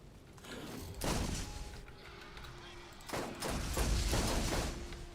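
Sniper rifle shots ring out in the video game Borderlands: a few sharp, loud booming cracks, one near the start and a cluster later, set over steady game background noise.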